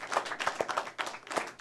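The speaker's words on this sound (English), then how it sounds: "Give yourself a round of applause" A small live talk show audience claps, a thin scattering of individual hand claps with distinct separate hits, close and uneven, over under two seconds.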